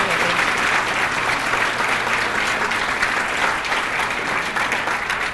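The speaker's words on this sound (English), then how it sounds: "Let's give them a round of applause." Sustained applause from a large audience at an award ceremony honoring a group of women, a dense, steady clapping that stays loud and even throughout with no break.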